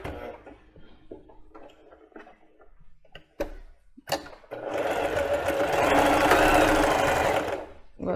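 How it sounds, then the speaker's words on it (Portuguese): A domestic sewing machine stitches lingerie in brief hesitant bursts and clicks, then runs in a steady, fast buzzing stretch for about three seconds before stopping, with a voice speaking between the short runs. "Eu vou fazer um retrocesso aqui, vou diminuir o ponto."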